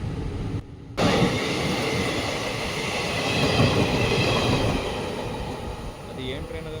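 A train on the Madgaon to Londa line roars past, a loud continuous rumble and wheel clatter close by that swells in the middle, with a short dip near the start, then fades slightly toward the end.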